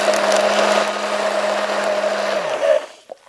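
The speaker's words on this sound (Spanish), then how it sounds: "metemos la batidora y trituramos" A hand blender whirs steadily at close range, pureeing red grapes, a constant buzzing drone that winds down and stops near the end, followed by a small clink.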